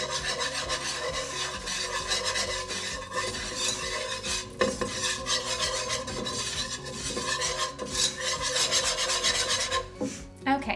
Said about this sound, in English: 2 tablespoons of flour. And that's gonna thicken up our sauce. And I'll just whisk this around.